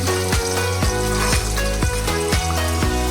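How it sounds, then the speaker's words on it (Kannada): Moringa drumstick pods frying in oil, a loud close sizzle with rhythmic clinks and scrapes of a utensil stirring roughly every half second, no talk. "ಸ್ವಲ್ಪ ಟೈಮ್ ಹಿಡಿದ್ರೂ ಚೆನ್ನಾಗಿ ಇದನ್ನು ಫ್ರೈ ಮಾಡ್ಕೊಬೇಕು ನುಗ್ಗೆಕಾಯಿ"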